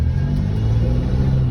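A 1997 Camaro engine revs hard and rumbles loudly, a continuous low growl as the car accelerates close by.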